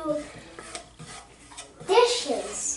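Dishes, pots and cutlery clink and scrape nearby in a home kitchen while a saffron chicken and orzo dish is being cooked, with a short rattling burst near the end and light talk in the background.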